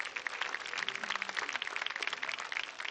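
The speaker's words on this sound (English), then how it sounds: "let's put our hands together, applaud our sponsors" An outdoor summer concert crowd applauds the sponsors, a steady, dense wash of many hands clapping at moderate distance throughout, with no talk over it.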